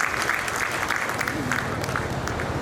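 An audience at a Durga Puja festival gathering claps steadily, a thick continuous wash of applause with a faint low murmur beneath it.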